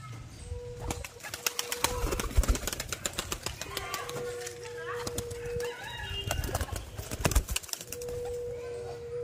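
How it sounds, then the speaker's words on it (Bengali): Flying pigeons kept for sale at a Beldanga market coo in repeated low calls over a busy mix of chirps, clicks and brief wing flutters, with other birds and a faint voice in the background. "এগুলো সবগুলো নিচে বাজির পায়রা"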